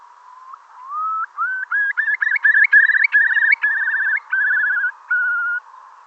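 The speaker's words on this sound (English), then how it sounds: "that is the call of the curlew" Eurasian curlew giving its rising bubbling call, a sequence of clear whistled notes sweeping upward then trilling, loud and close, alone without other sounds, fading toward the end.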